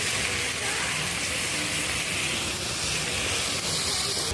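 Cabbage and other vegetables stir-frying with rui fish in a pan, a continuous loud hissing sizzle with steady steam-like noise throughout and no clear breaks.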